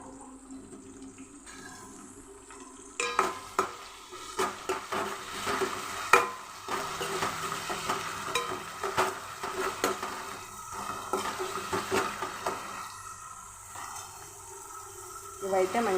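Onions frying in a pan as a spoon stirs and scrapes them, with soft sizzling and intermittent clatter while a person talks.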